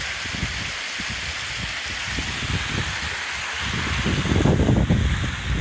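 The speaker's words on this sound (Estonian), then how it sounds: "vägevad kaskaadid." Waterfall cascades in northern Norway, heard as a continuous broad rush of falling water that swells louder toward the end, with some wind buffeting on the microphone.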